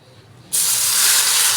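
Prawns, small puja-type with heads removed, dropped into very hot mustard oil seasoned with salt and turmeric. After a brief quiet start, a loud, steady sizzling hiss bursts in suddenly and holds close and strong to the end.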